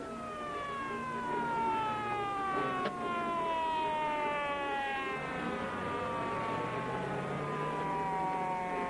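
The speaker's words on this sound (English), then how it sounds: "Police car." A wailing police siren from a 1939 film serial sweeps up and down continuously, loud and fairly close, with engine rumble beneath and no talking.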